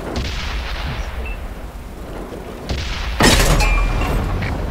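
A tank cannon fires in World of Tanks, a sharp loud blast near the end cutting through a rumbling battlefield background, followed by a lingering roar.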